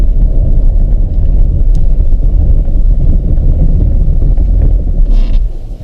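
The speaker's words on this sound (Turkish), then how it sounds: "Şimdi arkadaşlar fren testi yapacağım." Car on Continental TS870 winter tyres braking on snow near Sarıkamış, Kars, with a heavy continuous low rumble of road and wind noise throughout and no voices.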